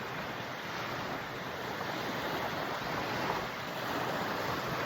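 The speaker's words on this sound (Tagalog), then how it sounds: "Presko ra gyud ang hangin diri daplin sa baybayon." Sea waves wash steadily onto a tropical shore at sunset while wind rushes across the microphone, a continuous, fairly soft roar of surf with no voices.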